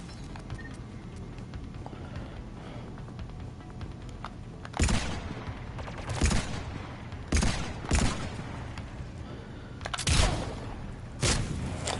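Crossfire from the left side balcony in Mass Effect Legendary Edition, with several loud bursts of gunfire coming in separate clusters over a low steady background hum.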